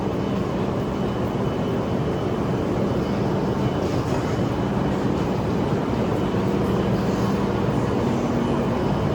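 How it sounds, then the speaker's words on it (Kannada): A JR local train in Japan gives a steady, loud, broadband rumble with a low drone, continuous and unbroken throughout with no voices. "JR local train"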